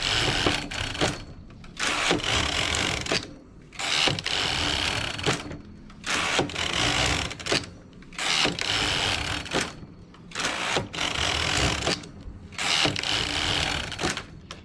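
A knitting machine works thick wool in steady rows, its carriage rasping and clattering in long mechanical sweeps broken by brief pauses at each turn, loud and close.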